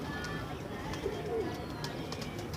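Pigeons coo softly at a busy outdoor pigeon market, the low throaty calls rising briefly amid crowd murmur and someone talking nearby.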